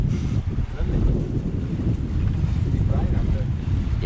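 Strong wind of about 20-25 knots buffets a sailing boat, a loud, continuous roaring rush of wind noise over the microphone with a rough, gusty texture throughout.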